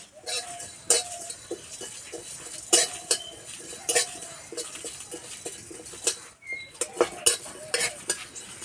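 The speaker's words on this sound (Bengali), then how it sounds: "গোটা মৌরি, জিরে, দুটো শুকনো লঙ্কা, গোলমরিচ আর দুটো এলাচ একসঙ্গে ভেজে নেব।" Fennel, cumin, dried chillies, pepper and cardamom dry roast in a pan, with a utensil scraping and clinking against the metal in irregular close strokes over a quiet background, without talking.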